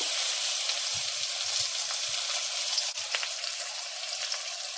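Chopped onions frying in a pan, a loud, dense hiss of hot oil with soft low thumps of stirring, the sizzle dipping briefly and then continuing steadily.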